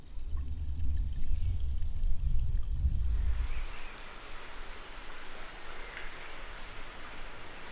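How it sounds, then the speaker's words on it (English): Water runs steadily in a garden fountain at Schwetzingen Palace that was built to keep drinks cold, a soft even splash and trickle that continues alone after a low rumble fades out. "This is one of the only fountains where the function was more important than its form, because it was built to keep drinks cold."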